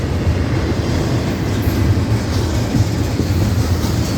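A double-stack intermodal freight train rumbles steadily past at close range, a loud continuous roar of wheels and cars with faint clatter throughout.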